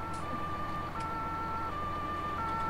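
An ambulance siren in Farming Simulator 19 wails continuously in a two-tone alternating pattern, loud and steady throughout, with no talking.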